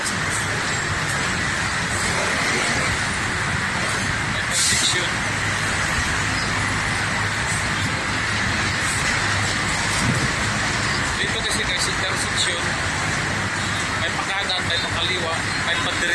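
Vehicles flowing through a busy road intersection in Makati, a constant wash of engine rumble and tire noise with occasional louder passes and faint horn-like tones, steady throughout.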